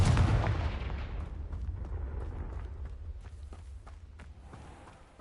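A Confringo spell blast in the video game Hogwarts Legacy hits with a loud, booming explosion at the start, then a long rumbling decay dotted with crackling debris and light footsteps.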